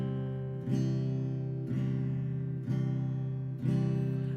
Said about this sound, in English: This is my skin pretty much playing the strings,